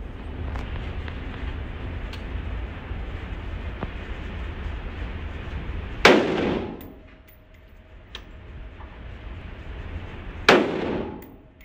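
Two loud gunshots from a .223 AR rifle, a few seconds apart, each a sharp crack with a trailing echo, following steady low outdoor rumble.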